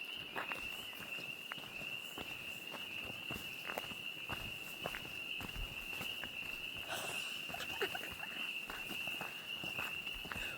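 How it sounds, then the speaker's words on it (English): A dense chorus of spring peeper frogs at night forms a steady, shrill high-pitched drone, with footsteps crunching along a trail close by throughout. "can you hear the peepers?"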